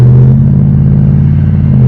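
A pickup truck cruises down the road with a loud, steady low engine rumble and road drone, close and unbroken throughout, with no talking.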